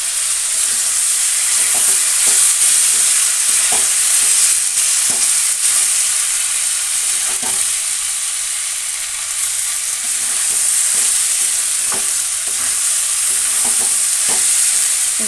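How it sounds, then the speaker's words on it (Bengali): Spice paste of cumin, chilli, turmeric, ginger and garlic frying and being stirred in a pan for a prawn, potato and ridge gourd curry. A steady loud sizzle with repeated spoon scrapes runs throughout, and no one speaks. "ভালো করে একটু মশলাটা কষিয়ে নিতে হবে"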